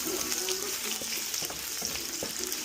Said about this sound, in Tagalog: So we're gonna add our ginger first,